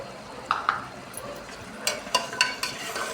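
Chopped vegetables with ginger-garlic paste and tomato are stirred in a pan for vegetable biryani. A soft sizzle runs underneath a series of close, sharp scraping clicks that come in uneven bursts, with no voices.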